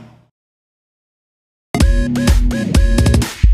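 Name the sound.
dance song playing back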